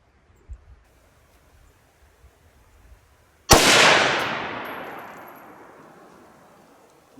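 A single loud rifle shot from a Radical Arms 6.5 Grendel at an outdoor range cracks sharply after a quiet lead-in, then rolls away in a long, fading echo.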